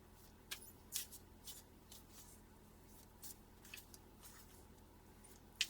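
Playing cards are handled in a few brief, faint shuffling and flicking bursts, scattered across an otherwise quiet stretch with a low steady hum beneath.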